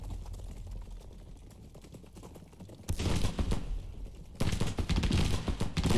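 Musket volleys in a Civil War battle game at Bull Run: a quiet stretch, then a sudden burst of dense crackling rifle fire, a brief lull, and a second rolling volley of overlapping shots.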